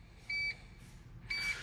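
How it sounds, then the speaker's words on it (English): Two short electronic beeps from a Toyota Tundra Hybrid with an IGLA anti-theft device confirming code authentication, each a clean tone of about a quarter second, clear and close over a low hum. "The vehicle will beep and flash,"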